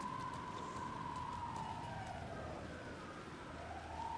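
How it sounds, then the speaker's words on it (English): A wailing siren rises and falls steadily in the video game Alan Wake II, a continuous sweeping tone heard from a distance, fairly faint over a low rumbling background. "I'm going to go over here now because the siren is annoying."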